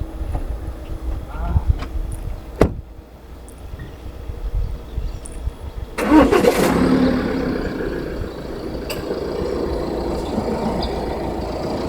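A car engine turns over with a keyless push-button start, a sudden loud catch around midway that settles into a steady idle hum, with some talk nearby before it fires.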